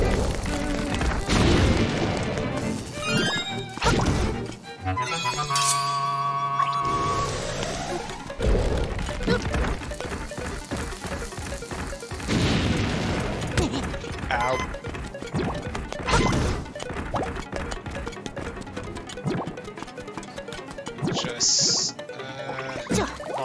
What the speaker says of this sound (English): Launch the bomb.